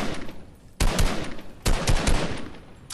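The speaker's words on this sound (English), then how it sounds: "I'm just putting out cover fire for you guys" Gunfire in Fortnite, two loud bursts of rapid automatic fire, each lasting close to a second with a short gap between, booming and dense at close range.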